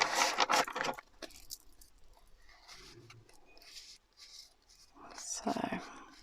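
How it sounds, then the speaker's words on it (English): Tarot cards being shuffled by hand: two short bursts of papery riffling and rustling, one at the start and one near the end, with quieter soft handling between them and a low voice murmuring. "So I'm just going to give this one a good shuffle."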